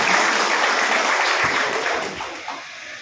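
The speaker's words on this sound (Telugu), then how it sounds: "ఒకసారి క్లాప్స్ తోటి వాళ్ళందరికీ మనం ధన్యవాదాలు సమర్పించుకుందాం." An audience at a gold loan event in Vizag claps together in a dense, loud burst of applause that carries on for a few seconds, then fades and thins out toward the end.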